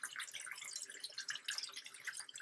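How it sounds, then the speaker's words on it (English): Cold tap water running gently in a kitchen sink while cooking, a soft, steady trickling patter with small splashes, fairly quiet and close, with no voices. "I'm going to gently run some cold water"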